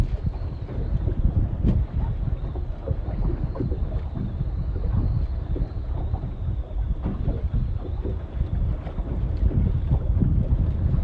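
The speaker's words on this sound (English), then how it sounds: "Man, the wind is blowing these rods around." Steady, loud wind buffets a fishing boat on the Potomac River and pushes the fishing rods around. The gusty roar runs without a break for the whole stretch, close to the microphone, and no one speaks.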